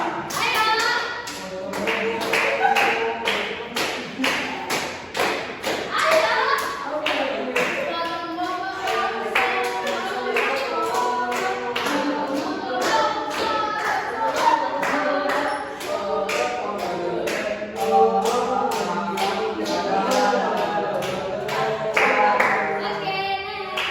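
Children clapping their hands in a rapid, irregular patter of sharp claps that runs nearly nonstop, with children's voices chattering and calling out underneath.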